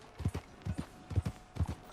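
Horse hooves clip-clop in a steady gallop rhythm in Red Dead Redemption 2, with paired hoofbeats recurring about every half second, close and clear with no talk.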